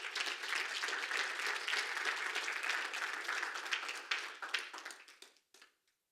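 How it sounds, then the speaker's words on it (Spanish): A church congregation applauds during a sermon, a thick wash of steady clapping that thins into scattered claps and fades out near the end. "Dale un aplauso al Señor por eso."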